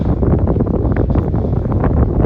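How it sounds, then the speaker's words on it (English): Heavy wind buffets the microphone in a steady, loud roar with rumbling gusts. "it's all windy as shit out here"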